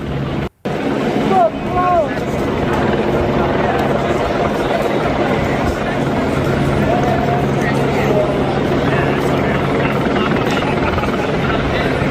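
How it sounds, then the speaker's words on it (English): Several helicopters circle above the federal building in downtown Los Angeles during protests, their rotor drone a constant loud wash with wind noise, sustained throughout. "At least 5 helicopters are seen circling the federal building downtown that is currently being protected by LAPD"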